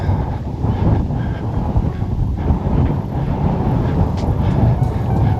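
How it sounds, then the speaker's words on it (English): Gusty wind blowing outdoors in a park near a car show, a heavy low rumble of wind buffeting the microphone, loud and continuous. "The wind is trying to take my hat away though"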